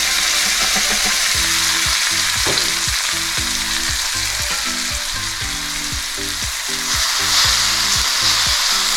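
Defrosted ingredients for a vegan yakisoba sizzle steadily in a hot pan, a dense, continuous frying hiss with rhythmic scraping and stirring knocks throughout, close and loud with no talking.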